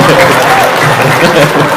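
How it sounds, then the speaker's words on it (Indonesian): An audience gives a brief burst of clapping, a dense, close patter lasting under two seconds while a voice talks over it. "Tepuk tangan."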